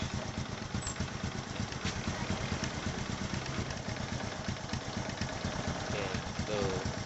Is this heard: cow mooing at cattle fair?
no